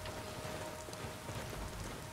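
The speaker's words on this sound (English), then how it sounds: "The rain looks really good in this" Rain falls steadily in the Skyrim video game, a soft continuous patter of drops on surfaces at low volume with no talking.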